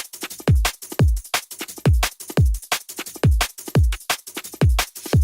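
Drum and bass break sample of deep booming kicks, crisp snares and ghost hits, looping in a fast, tight, repeating pattern, loud and dry with no talking.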